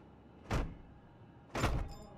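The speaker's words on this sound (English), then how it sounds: "Do I have to slam the door?" Two heavy door slams thud in the video game Life Is Strange as a dorm room door is shut, each a sharp, loud bang about a second apart over quiet background.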